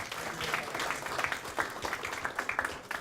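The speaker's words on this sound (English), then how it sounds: "Let us give him another round of applause" Applause from a conference audience at a Lions Club youth forum, steady mid-level clapping with some crowd noise that holds for the whole span.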